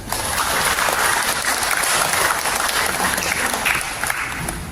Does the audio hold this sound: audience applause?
yes